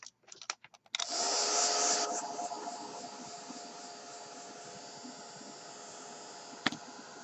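A hair dryer switches on with a sharp blast after a few brief clicks, then blows a steady whoosh over a craft project and settles slightly quieter, with a short click near the end.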